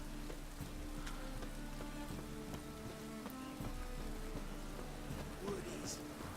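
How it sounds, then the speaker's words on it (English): Rain falling in the video game Witcher 3, a steady patter of drops on surfaces at moderate level, with faint tonal game ambience under it and no clear speech. "Looks like rain."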